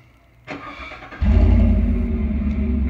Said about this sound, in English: It has a nice rumble to it